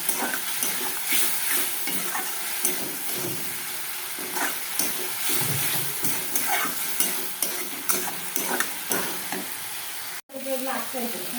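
Fish curry with whole green chilies sautéing in a pan, a steady loud sizzle and hiss running throughout with repeated scraping stirs, and a brief dropout near the end.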